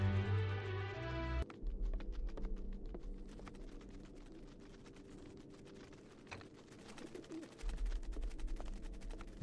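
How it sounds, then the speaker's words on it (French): Pigeons coo inside the video game Hitman: Blood Money, soft and low beneath busy game ambience with a steady scatter of sharp clicking and tapping. "y'a là les pigeons ici"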